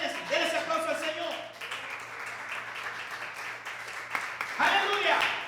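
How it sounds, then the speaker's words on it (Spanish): Congregation applause in a bilingual Spanish-English church service honoring the Lord, a broad wash of clapping that rises, thins under speech-like tones, then swells again near the end. "Denle ese aplauso al Señor."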